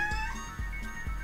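A pet cat meows several times in close succession, near and fairly loud, with no talk over it.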